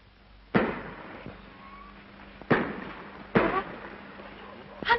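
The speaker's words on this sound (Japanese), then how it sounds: "花火ですわ" Fireworks pop and boom in several separate bursts at uneven intervals, each trailing off into crackle against a quiet background.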